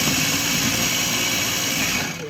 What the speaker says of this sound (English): He doesn't like that chopper.